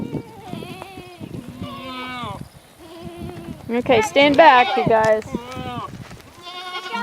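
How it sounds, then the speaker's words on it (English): Goats bleating close by in repeated wavering cries, growing louder and overlapping in the middle, while a person talks among them. "Goats! Come here, goats! Here, goats!"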